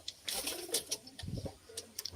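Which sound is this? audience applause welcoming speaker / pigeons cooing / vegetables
pigeons cooing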